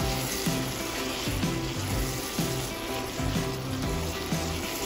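Beef liver simmers over low heat in a pan, giving a steady, close bubbling sizzle with a soft, rhythmic liquid burble throughout and no voices.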